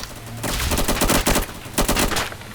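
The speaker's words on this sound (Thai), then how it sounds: "จะมีปืน AK อาก้านะ แรงมากอาก้าสิบเจ็ด" Rapid automatic AK-47 gunfire in the Roblox survival game The Island Reborn, loud sharp bursts of shots in quick uneven volleys over a steady low background, with no voices.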